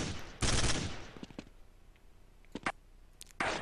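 Short bursts of rapid gunfire crackle in a Counter-Strike match on de_inferno, with a loud opening volley, scattered single shots in the middle and another burst at the end.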